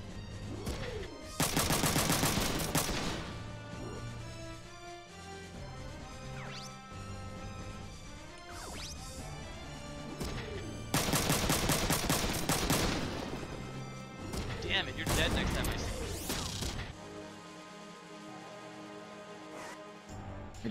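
Bursts of gunfire and crashing impacts from the PlayStation 1 game Front Mission 3, rapid volleys in two loud stretches with ringing, tonal game effects between them, fading to a quieter tail at the end.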